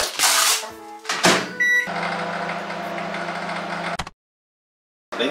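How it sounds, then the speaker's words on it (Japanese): A microwave oven heats a large batch of bean sprouts: a few clunks and tones at the start, then a steady electrical hum for about two seconds that cuts off abruptly into silence, with no talking. "ではもやしをね、レンチンで調理していきます。"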